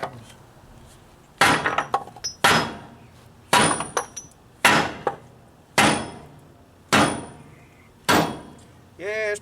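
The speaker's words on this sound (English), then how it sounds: "I maybe I'll get a bigger hammer." A hammer strikes a stuck, mushroomed-over part on a John Deere tractor, seven loud metallic blows with ringing decay, spaced about a second apart, close up.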